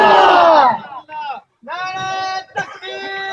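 A crowd at a religious gathering chants slogans in loud, rising and falling unison, several surges of massed voices with brief gaps between them, close and dense.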